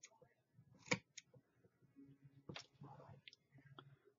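Scissors snip around a lace doily, giving a few soft, close cutting clicks mixed with faint handling rustle at a low level, with no one speaking.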